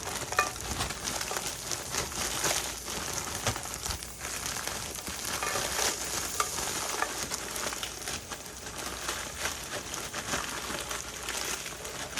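Frozen bitter melon (karilla) lands in an oiled pan and crackles steadily, a dense close hiss with sharp popping ticks throughout and no voices.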